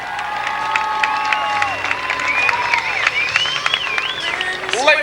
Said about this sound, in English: Let's have a big round of applause for Kathy.